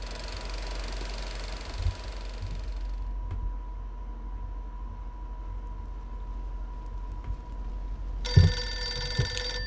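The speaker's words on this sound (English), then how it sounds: "The phone rings." Telephone ringing in a story scene, a bright electronic ring that breaks off, leaving a low hum, then returns loudly near the end with harsh tonal chirps.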